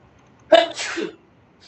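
A single sharp sneeze bursts out close to the microphone during a Dota 2 coaching session, brief and loud against an otherwise quiet background.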